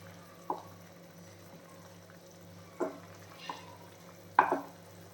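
Chicken pieces being turned in a pan while frying without deep oil, with a few separate soft scraping stir sounds over a faint steady sizzle.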